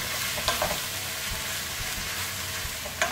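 Chilli con carne sizzling steadily in a pan while a spoon stirs it, with soft scrapes and a couple of sharper clinks over the constant frying hiss.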